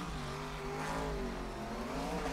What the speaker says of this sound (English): The turbo just venting into the air.